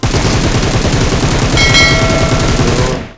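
Loud, continuous rapid automatic gunfire in PUBG Mobile, dense bursts of shots close by with no break, cutting off abruptly at the end.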